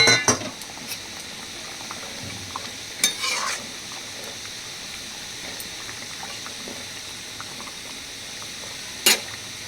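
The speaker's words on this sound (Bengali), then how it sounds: "দেখো এবার আমি এর মধ্যে দিয়ে দিচ্ছি মাছ আর ডিম বড়া।" Fish and fish-roe fritters go into a curry simmering in a pot, heard as a soft, low bubbling hiss broken by a few sharp clinks of a utensil against the pot.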